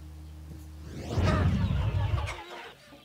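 Chickens cluck on a Korean farm raising birds that lay green-shelled eggs, a dense mass of clucking and fowl calls swelling loudly in the middle before easing off, with no talk over it.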